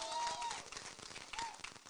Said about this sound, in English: A big round of applause to yourselves.